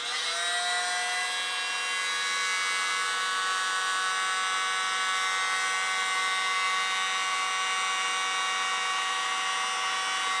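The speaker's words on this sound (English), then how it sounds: "I'm going to use the mini blower." A small mini blower runs without a break, drying wet paint on a fluid art canvas. It gives a steady, loud, high-pitched whirring whine that starts with a brief rise in pitch and holds constant throughout.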